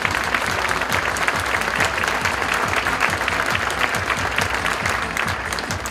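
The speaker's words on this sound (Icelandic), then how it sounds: "Við skulum gefa þeim gott klapp." An audience at a horse show claps for three horses from a breeding farm, with dense, even applause sustained throughout, loud and close, with some crowd murmur under it.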